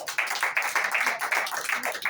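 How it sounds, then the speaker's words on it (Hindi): Listeners at a Sunday sermon clap on cue, a short run of rhythmic, fairly uniform claps from a small group, pulsing in quick regular waves. "तालियां बजाएं"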